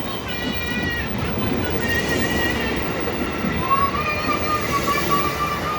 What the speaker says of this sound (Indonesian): Ada kereta lagi, deh, Dede.